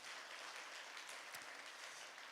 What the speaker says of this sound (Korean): 하나님께 영광의 박수를 돌려드립니다.